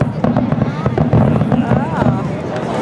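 Fireworks crackling during a display, a dense, continuous stream of rapid pops and sizzling crackles with a crowd murmuring underneath.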